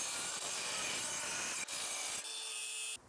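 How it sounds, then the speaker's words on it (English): A 26 mm hole saw grinds steadily through metal while cutting out a hole for an E36 differential modification, a continuous harsh rasping with brief changes in pitch, close and loud. "I'm going to cut this out as best I can. I need a 26 mil hole saw just to make it all real neat."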